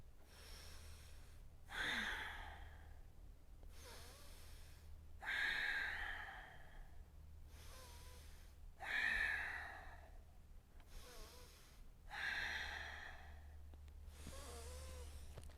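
Slow deep breathing held during a yoga twist, four long audible inhale-exhale cycles with steady gaps between them, close and soft over a low constant hum, no talking.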